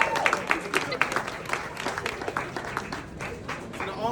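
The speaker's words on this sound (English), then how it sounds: "Big round of applause for Kenny." Live audience at an art performance built around a football breaks into a round of applause, a dense patter of clapping heard up close and steady for a few seconds, with a voice speaking over it.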